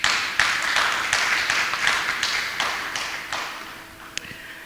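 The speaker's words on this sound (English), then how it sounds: "I believe we can give him another round of applause." Audience applause at a memorial lecture: crisp clapping that starts strong and thins out as it goes on, with a few sharper individual claps and a small metallic tap near the end.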